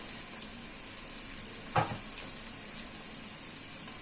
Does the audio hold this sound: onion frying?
yes